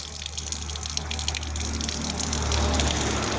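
Steady gushing stream of water from a push-button tap, running continuously and close by with no voices.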